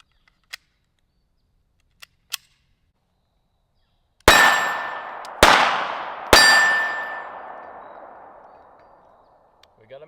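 A Czech Vz.50 pistol fires PPU FMJ 71 grain .32 ACP: three loud, sharp shots about a second apart, each ringing off into a long decaying tail, after a few faint handling clicks.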